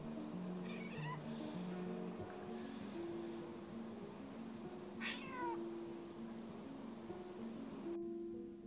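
A jay gives two faint, cat-like mewing calls mimicking a cat, one early and one midway, against a quiet, steady background hum.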